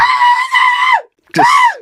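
A voice imitates a woman screaming, giving two loud, sustained, high-pitched wails separated by a short gap, the second rising sharply before holding.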